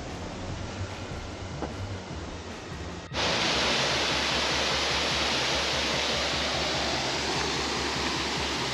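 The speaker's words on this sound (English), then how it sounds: "Here we are at the first stage of Sapan waterfall." Sapan waterfall in Nan province, Thailand, roars as a loud, steady broadband wash, quieter and more distant at first, then suddenly full and close as the water comes near.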